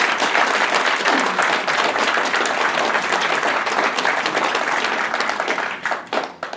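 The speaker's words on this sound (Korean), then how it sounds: "여러분 우리 다 같이 고영주 대표님께 큰 박수 한번 부탁드리겠습니다." Sustained, loud applause fills a hall at a Korean book launch event, a large audience clapping steadily throughout before it thins out near the end.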